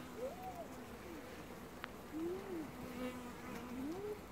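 Honeybees buzz steadily around an open hive during an inspection, a close, continuous droning hum with wavering pitch as individual bees fly past, and one sharp click partway through.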